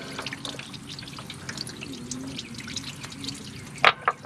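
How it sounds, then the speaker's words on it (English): Coolant drips and trickles from a leaking Honda Pioneer utility vehicle. Soft, irregular liquid patters sound close by and fairly quiet, with two sharper splashes near the end. "it looks like I'm still losing a ton of coolant"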